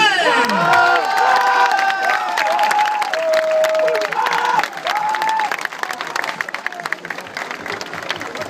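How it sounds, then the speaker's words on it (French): A large crowd at a football club open day and fan day applauds and cheers loudly for a player being presented, with sustained clapping, whistles and children shouting throughout. "Applaudissements pour Kenneth Houdren."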